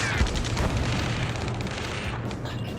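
Dense, rapid gunfire rattles through a chaotic firefight in the video game Ace Combat 7, with booms layered throughout and a steady, loud wall of sound.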